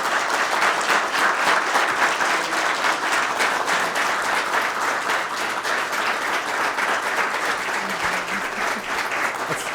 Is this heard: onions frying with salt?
no